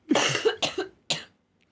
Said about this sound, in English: the cough is loud enough that it'll pick up on your mic as well